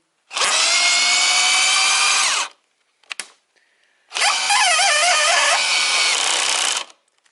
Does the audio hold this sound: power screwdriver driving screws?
yes